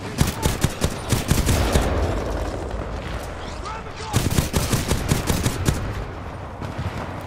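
Rapid gunfire in a Titanfall 2 multiplayer battle, loud bursts of automatic shots and impacts coming from several directions, dense and continuous with brief lulls.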